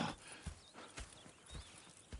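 Horses in Red Dead Redemption 2 moving at a walk, soft irregular hoof clops on dirt with a faint snort or whinny, heard fairly close under a low outdoor ambience.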